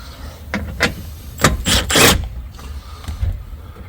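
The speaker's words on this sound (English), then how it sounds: "I'm going to take this 10mm bolt out" A 10mm bolt comes off the hybrid battery duct of a 2013 Toyota Prius, heard as a few close mechanical rattles, rubs and ratcheting clicks in short bursts, with quiet pauses between them.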